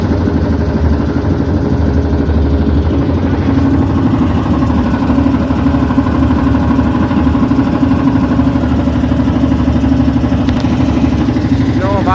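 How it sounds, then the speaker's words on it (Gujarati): A motor boat engine drones steadily and close by for the whole stretch on the river at Kashi (Varanasi), with a second boat passing alongside, and faint voices mixed under the constant hum. "જો બાજુમાં પણ બોટ જઈ રહી છે."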